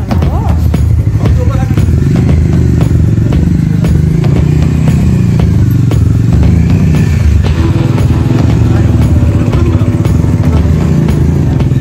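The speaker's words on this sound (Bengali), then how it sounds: "বাইক এখন এই ওপরে উঠবে, লজে উঠবে" A motorbike climbs a steep hill road up to a mountain homestay lodge at Dhotrey on the way to Sandakphu, its engine loud and close with clattering and thumps.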